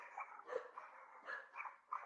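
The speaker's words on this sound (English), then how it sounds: "The dogs have a lot to say." Several dogs bark in a scattered, overlapping run, faint and somewhat distant, with no talking over them.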